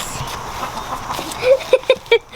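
Farm chickens cluck in a few short, close bursts while being fed black oil sunflower seeds as a treat, with faint background noise before the clucks.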